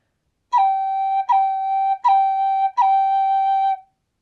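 Four tin whistle notes, each opening with a crisp tongued and cut attack that gives a small pop, held steadily and played close with no talking.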